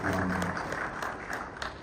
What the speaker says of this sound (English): I think a round of applause to financial sector regulators.